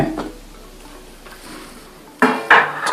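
Metal clanks of a pressure cooker lid being handled and lifted off after cooking chicken pulao: a quiet stretch, then two sharp close bangs of metal on metal near the end.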